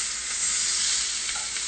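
Fish dusted in flour sizzles steadily in a hot frying pan as it is turned over, a close, even hiss throughout.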